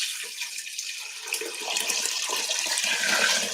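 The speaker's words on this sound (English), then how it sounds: "just fill up some water" Water runs from a kitchen tap into a pot for vegetable broth, a steady hissing splash that grows slightly louder and fuller as the vessel fills, close by with no talk.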